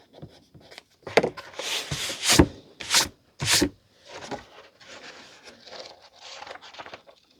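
Writing being rubbed out on a vintage Penguin paperback jacket, a series of short, close brushing scrubs in bursts, louder in the middle, then softer rubbing strokes.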